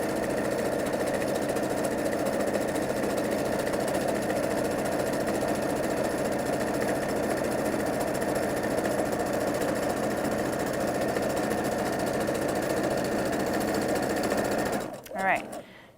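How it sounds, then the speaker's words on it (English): A sewing machine runs steadily, stitching down the second side of jelly-roll fabric strips joined into a tube for quilting, a continuous close mechanical whir for about fifteen seconds before stopping abruptly. "now I'm going to go ahead and stitch on the other side"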